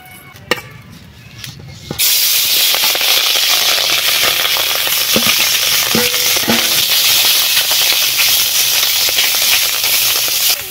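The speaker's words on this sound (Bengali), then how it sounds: "কড়াই গরম হয়ে গেছে, কড়াইয়ের মধ্যে তেল দিয়ে পুঁটি মাছগুলো ভাজবো।" Puti fish frying in hot oil in a wok, a sudden loud steady sizzle and hiss that starts after a couple of seconds of quiet handling clatter and carries on unbroken, with a few faint taps on the pan.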